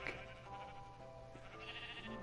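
A sheep bleats in the block-building game Minecraft, its wavering cry sounding clearly several times over a quiet background.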